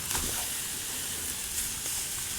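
Ribeye steaks sizzle steadily on a Camp Chef grill, a continuous bright hiss with faint crackles, close and even throughout.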